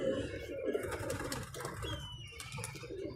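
A sick pigeon recovering under treatment gives soft, low, continuous cooing up close, a steady murmuring rumble with faint background noise.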